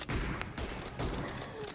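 Sharp M24 sniper rifle shots in a mobile shooting game, a few loud cracks in quick succession over a busy game background.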